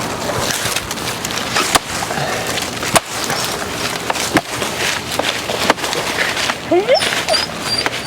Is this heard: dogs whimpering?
yes